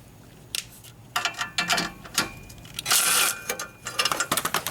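Socket wrench working on a Corvair exhaust hanger bolt, making close, crisp ratcheting clicks in irregular bursts with short pauses, ending in a rapid run of clicks; no voices.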